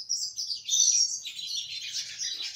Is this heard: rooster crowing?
no